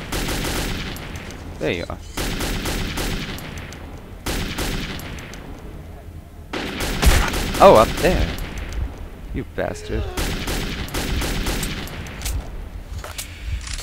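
Assault rifle fire in the Metro 2033 video game, repeated bursts and single shots crackling across the clip, loud and close, with someone speaking in short excited exclamations between them.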